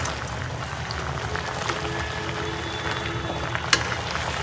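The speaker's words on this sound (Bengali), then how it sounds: "আর কাঁকড়াগুলো কি সুন্দর করে সিদ্ধ হয়েছে।" Crabs simmering in a pot of water for a Chakma-style boiled dish, a steady close bubbling and hissing of boiling liquid with faint clinks, no talk.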